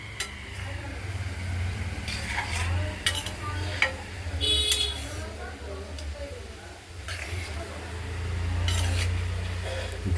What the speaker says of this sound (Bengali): ধীরে ধীরে কষিয়ে নেই